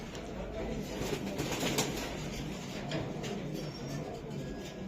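Racing pigeons coo in soft, repeated low calls, heard close by amid background rustle and a voice speaking.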